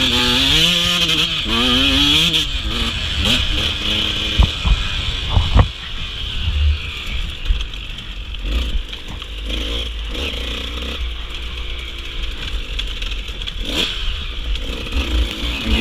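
Dirt bike engine restarted after stalling on a slick uphill during a hare scramble race, revving up with rising whines, then running rough with clattering and scraping, close and loud.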